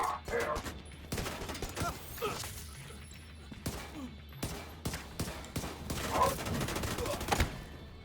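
Gunfire in the video game The Division 2: repeated sharp gunshots and short bursts ring out at irregular intervals, with some impacts and crashes and game voices in between.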